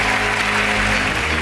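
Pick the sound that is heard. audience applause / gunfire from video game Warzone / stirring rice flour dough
audience applause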